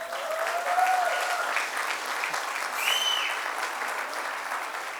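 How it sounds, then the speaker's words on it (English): An audience at a fashion round of a grand finale show claps steadily and loudly, a sustained wash of applause with a few whoops rising over it. "they deserve another round of applause for that"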